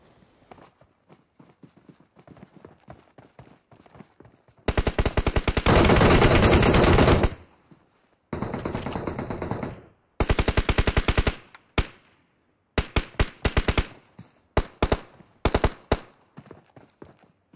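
Bursts of rapid automatic gunfire from a gun in the mobile battle game BGMI, loud and close, fire in long sustained strings and shorter volleys separated by brief pauses over quieter in-game background noise.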